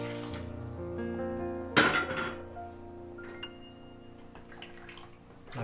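Boiled water is poured into rice in a cooking pot for veg biryani, a sudden splashing pour and brief clatter of the vessel, followed by quieter settling sounds, no talk.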